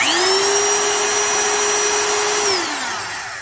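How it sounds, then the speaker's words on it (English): The high-speed motor of a Skil Xtra-Tool triple mode hammer drill whines steadily at full speed, close and loud, then winds down toward the end. "we can hear it's a higher speed motor"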